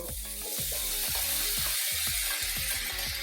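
Ingredients for rajma poriyal sizzle loudly in a hot pan as they are stirred, a continuous close crackle over steady rhythmic background music.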